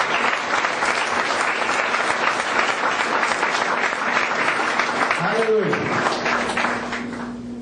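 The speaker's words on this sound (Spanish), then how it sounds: "Vamos a brindarle un fuerte aplauso a nuestro Dios." A church congregation breaks into loud, sustained applause, dense clapping from many hands continuing for several seconds while a voice calls out briefly over it, then the clapping thins toward the end.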